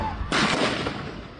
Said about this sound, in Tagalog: Baril siya ng baril.